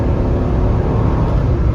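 A 1983 Porsche 928S accelerating hard and downshifting, its engine a loud, steady close-up roar and rumble that holds strong throughout.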